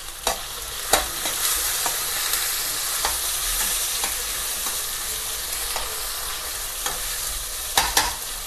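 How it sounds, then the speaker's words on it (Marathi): Onion and tomato stir-frying in a pan for upma, a steady close sizzle with broadband crackle throughout and periodic scraping clicks of a spoon stirring against the pan, no talking. "असं लाल भाजून घेऊया."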